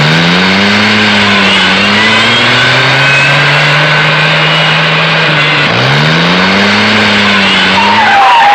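A car in a dubbed South Indian action film revs hard and skids, its engine note rising and dropping twice as the tires squeal, loud and close for the whole stretch.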